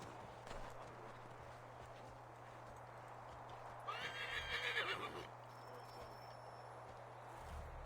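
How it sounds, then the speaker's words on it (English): A horse in the Assassin's Creed video game walks past with steady clip-clopping hooves over ambient game sound, swelling into a louder burst of hoofbeats and a snort near the middle before fading again. "I'm coming by on a horse."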